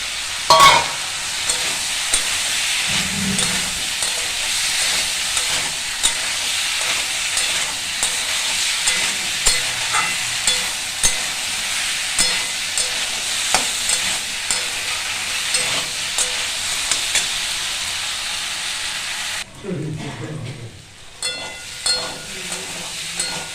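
Raw pumpkin curry with fried potatoes sizzles steadily in a pan as a spatula stirs and scrapes in repeated strokes, loud and close, with the sizzle dipping briefly near the end.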